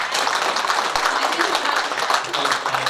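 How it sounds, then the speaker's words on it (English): Sustained crowd applause from a seminar audience at the close of a medical session on lifestyle disorders, a steady dense patter of many hands clapping throughout, fairly loud and continuous. "a big round of applause please"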